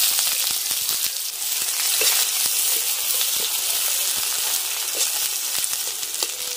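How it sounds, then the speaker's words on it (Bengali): Chopped onions frying in the leftover oil with whole garam masala, two dried chillies and two bay leaves for a spicy chicken curry, giving a steady close sizzle with small crackles and pops throughout and no talk. "পেঁয়াজটা লাল লাল হয়ে ভাজা হয়ে গেছে।"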